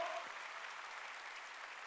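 A church congregation claps together during a Sunday worship service, a steady wash of many hands heard fairly distant and soft, lasting the whole moment without pause.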